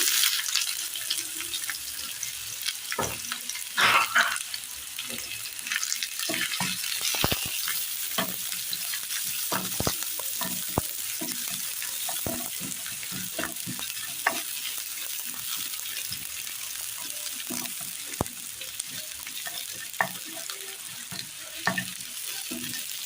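Oil sizzling steadily in a pan with mustard seeds and dried chillies, scattered sharp crackles and pops as the seeds splutter, along with occasional stirring and clinking throughout.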